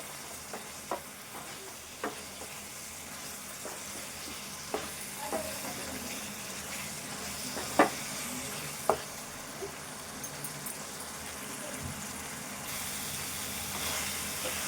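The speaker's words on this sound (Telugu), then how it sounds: "మళ్ళీ ఒకసారి కలుపుకుందాము ఇంకా దగ్గర పడాలి దగ్గర కుడకాలి మంచిగా ఫ్రై కావాలి" Chicken with green chili fries in a pan under a soft, continuous sizzle and hiss, broken by occasional sharp spatula clinks and scrapes as it is stirred, with no talking.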